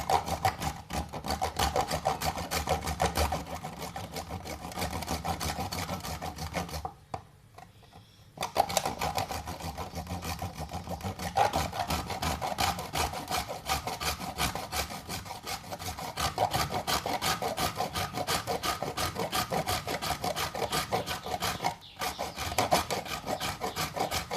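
Parmesan cheese is grated by hand, a continuous rhythmic rasping and scraping that runs for over twenty seconds, broken by one short pause.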